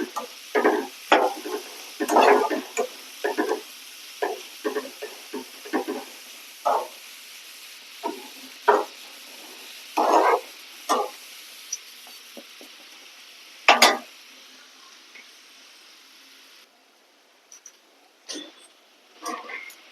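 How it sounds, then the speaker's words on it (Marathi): Onion frying in oil with a little salt in a pan while cooking dahi bhindi: repeated scraping stirs of a spoon against the pan over a faint, steady sizzle, with brief pauses between strokes. "कांदा पटकन जर का आपल्याला फ्राय करायचा असेल तेलामध्ये"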